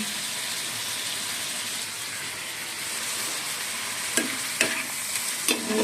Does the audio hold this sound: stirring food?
yes